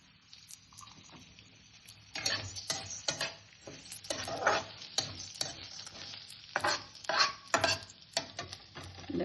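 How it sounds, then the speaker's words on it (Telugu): Toor dal roasting in a little oil in a small pan, with a soft sizzle under repeated brisk stirring scrapes and spoon clinks that grow busier after the first couple of seconds, close and without talk. "కొంచెం ఒక హాఫ్ స్పూన్ కందిపప్పు వేయించుకుంటున్నాను"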